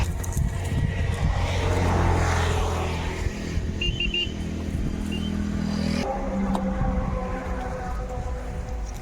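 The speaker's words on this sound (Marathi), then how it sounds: "आज ड्रोनच्या सहाय्याने फवारणीचं एक प्रात्यक्षिक आहे" Agricultural drone spraying a roughly month-and-a-half-old maize crop, a steady loud motor-and-rotor drone with a continuous engine-like hum running throughout, shifting in tone partway through.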